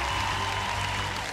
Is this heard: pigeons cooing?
no